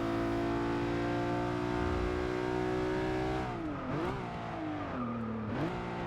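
Race car engine in Forza Motorsport 6 holds a steady loud drone, then revs rise and fall in quick swoops as the rear steps out, with tire squeal and skidding under the engine note; no talk.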